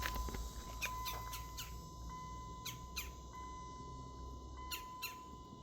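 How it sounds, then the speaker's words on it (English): A bird squawks from a tree limb in a series of short, sharp calls spread unevenly across the stretch. A steady electronic whine and low background hum run underneath, and no one speaks. "Not to mention there's some obnoxious noise up there too by way of a bird."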